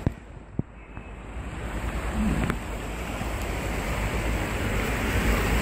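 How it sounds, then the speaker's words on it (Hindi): Water rushes steadily through canal gates in a Pakistani village near Sahiwal, a broad continuous roar building slightly after a few faint knocks at the start. "अब ये देखें फ्लो पानी का"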